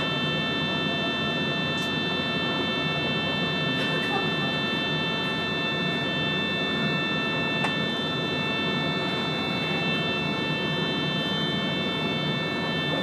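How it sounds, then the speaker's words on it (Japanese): A steady, high electronic SOS emergency buzzer drones continuously inside a Resort Yamadori train carriage after an emergency button press, with muffled rumbling and faint clicks in the background. "ただいまこの電車で SOS ブザーが使われております。"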